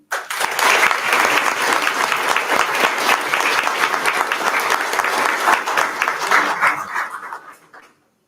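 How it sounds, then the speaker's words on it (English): Audience applause for an elementary school student's poem at a school district board meeting, a steady dense clapping that holds loud for several seconds before tapering off and stopping. "please give a round of applause to Keisha Usman"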